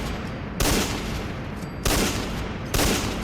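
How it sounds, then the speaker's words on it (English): Remington Model 870 pump-action shotgun firing in Fallout 4: three loud, booming shots spaced about a second apart, each with a sharp attack and a long, full decay over faint background noise. "It's a big boomy shotgun."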